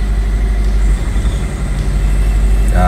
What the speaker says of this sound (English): I can still hear a misfire.